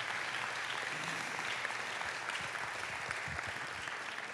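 A church congregation claps together as a clap offering during a Sunday service, a dense, steady wash of applause from many hands, sustained and even throughout.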